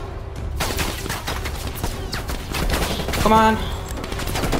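Sustained gunfire in the Call of Duty Cold War campaign, rapid rattling bursts of automatic shots running throughout at a fairly close distance, while a voice talks over the fight.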